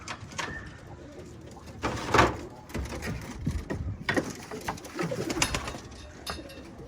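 Pigeons coo close by in a loft, with repeated soft throaty calls, wing flutters and knocking on wood over a quiet background.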